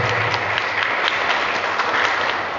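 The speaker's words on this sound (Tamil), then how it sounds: "எந்தெந்த நேரத்திலே கைத்தட்டுகிறீர்களோ அதுதான் அவனுக்கு மிகப்பெரிய சன்மானம்" Steady, dense applause from a lecture audience at a Tamil spiritual discourse hall, continuous and fairly loud throughout with no talk over it.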